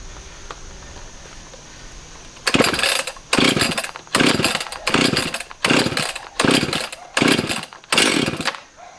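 A Husqvarna 262xp chainsaw with a hard-starting carburetor is pull-started repeatedly, eight loud rasping cord yanks in a steady rhythm, each a short burst close by, with faint background hiss between pulls.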